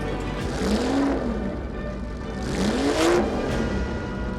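Classic car with six carburetors running: a mid-pitched engine note rising in two short revs, each swelling then easing back, over a steady idle, moderately close.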